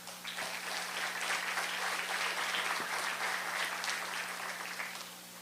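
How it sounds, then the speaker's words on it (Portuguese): Audience applause at a talk on Petrobras oil and energy prospects, a dense, steady wash of clapping that stays even throughout, with a low constant hum underneath. "Rodrigão, palmas aí."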